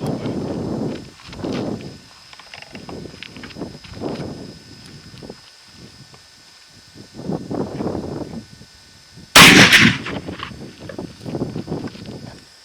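A single sharp gunshot from a .458 Winchester Magnum rifle cracks out loud and close near the end, set against quieter shuffling and handling noises outdoors.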